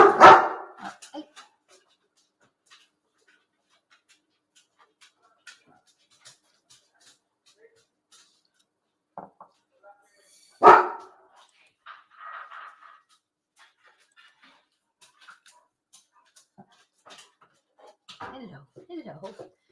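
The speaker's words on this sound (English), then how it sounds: "she had a little bark" A small dog gives a few short, sharp barks near the start and again midway, separated by long quiet gaps, with faint yips and rustling toward the end.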